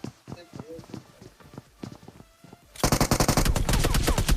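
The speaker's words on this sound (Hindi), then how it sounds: "ओ भाई पीछे से फायर हुआ।" Gunfire erupts in a video game as a loud, rapid burst of automatic shots. It follows a stretch of softer clatter, and a voice speaks alongside.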